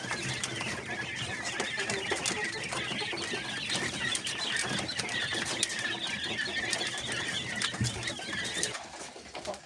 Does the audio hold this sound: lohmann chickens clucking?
yes